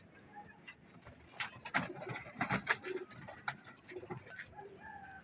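Several pigeons, kept as low- and high-flying breeds, coo and warble close by, soft overlapping throaty calls repeating steadily with faint ticking and clicks in the background.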